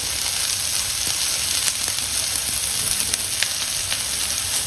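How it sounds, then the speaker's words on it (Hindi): Chicken shashlik sticks fry in a pan over a medium-high flame, giving a steady, close sizzle that runs unbroken throughout with faint crackles and no voices. "मीडियम हाई फ्लेम पे अब मैं 2 से 3 मिनट इसको एक साइड से फ्राई करती हूँ"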